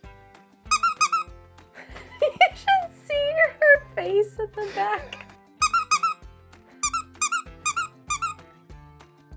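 A small dog in an RV squeezes a squeaky stuffed toy in repeated bursts of sharp, high squeaks, some quick runs and some single pips, close and clear, while a person speaks briefly in between.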